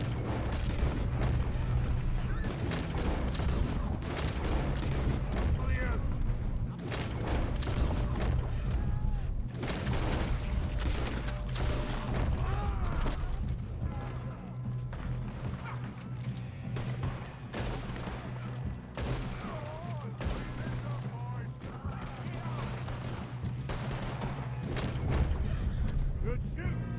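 A continuous barrage of gunfire and impacts during a Red Dead Redemption 2 shootout, dense and steady throughout with busy mechanical clatter and game sounds mixed in.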